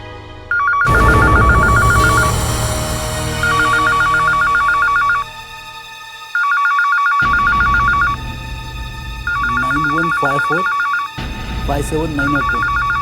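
A telephone rings in repeated electronic bursts, loud and close, with pauses between; a voice speaks over later rings along with low background music.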